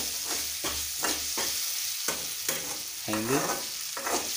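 Upma ingredients are roasted and stirred in a pan, with a spatula scraping in repeated rhythmic strokes over a continuous frying sizzle, close and fairly loud.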